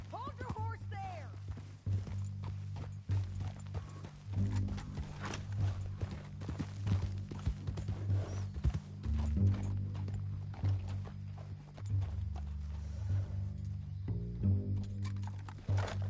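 Horse hooves clip-clopping steadily at a walking pace in Red Dead Redemption 2, a close, regular rhythm running throughout beneath intermittent talking voices.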